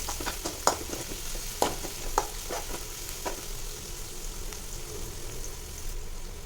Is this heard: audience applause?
no